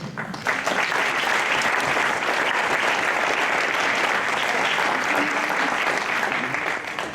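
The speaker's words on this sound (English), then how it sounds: "give yourselves a big round of applause before we go to the main act" A concert audience breaks into a loud, dense round of applause before the main act, many hands clapping in a continuous roar that holds strong for several seconds, with some crowd voices mixed in.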